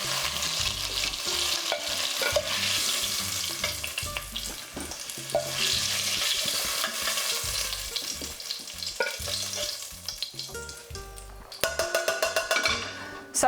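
Fried potatoes lifted out of hot oil with a slotted spoon in a pan, steady close sizzling with metal scraping and clinking against the pan, busier clatter toward the end.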